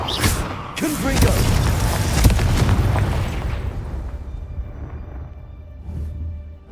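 Confringo fire-blast spell from Hogwarts Legacy, a heavy booming explosion with crackling bursts that swell loudly over a couple of seconds, then trail off into a lower rumble before a smaller pop near the end.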